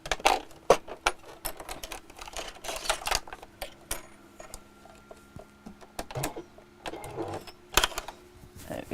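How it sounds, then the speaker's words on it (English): A sewing machine fitted with a zipper foot, stitching a chair cushion in short, clattering bursts of rapid needle strikes separated by brief pauses, close and moderately loud. "I'll put the zipper foot on my sewing machine."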